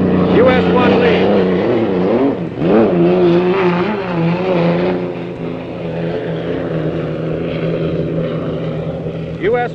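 Unlimited racing hydroplane US 1 roars during the 1962 Gold Cup race, a loud, steady engine howl with rising and falling pitch that persists the whole time beside another boat, with a broadcast announcer talking over it.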